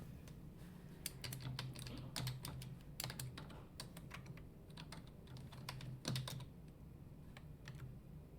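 Typing on a computer keyboard, a steady run of close, crisp key clicks with small bursts and pauses, heard alone over a low background hum.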